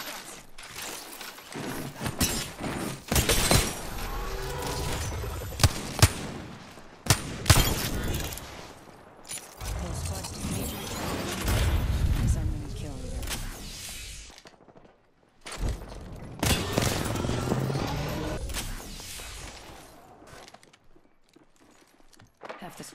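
Gunfire in a squad-based first-person shooter, bursts of shots and impacts coming in uneven clusters with short gaps, loud and close, alternating with quieter stretches of movement and game noise.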